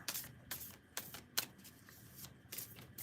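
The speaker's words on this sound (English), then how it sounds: "I shuffle until there's a card that doesn't want to go back in or falls out by itself." A deck of cards is shuffled by hand in soft, quiet bursts of riffling and flicking, repeating in an irregular rhythm with a few sharper snaps.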